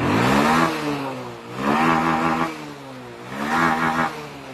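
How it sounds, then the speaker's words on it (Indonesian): A motorcycle engine is revved hard by a mechanic three times in a row, each loud rising roar falling back to a rough idle between bursts, close by and with no talk. "Ini saya gas betot, ya."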